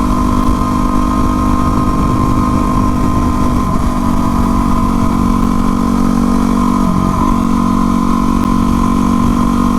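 A Yamaha WR250R in supermoto trim is ridden at a leisurely pace, its engine droning loud and steady throughout under constant wind rush, with no clear changes in revs.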